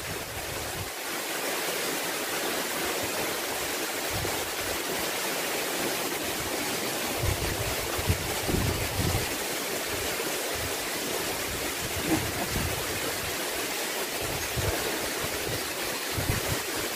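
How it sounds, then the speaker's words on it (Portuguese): The Itambé waterfall in Brazil roars steadily and loudly, a dense unbroken rush of falling water that fills the whole scene. "cachoeira do Itambé"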